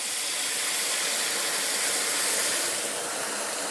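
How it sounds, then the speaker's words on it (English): Liquid poured down the side of a hot pan of wilting spinach, deglazing it while cooking cheesy chicken and grits, gives a loud, steady broadband sizzle that holds without a break for the whole stretch. "So I'm gonna add my liquid down the side."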